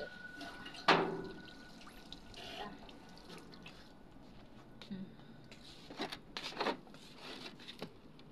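Water splashes and trickles in short bursts as plants are watered, a sharp splash early then softer pours later, with quiet talk in the background.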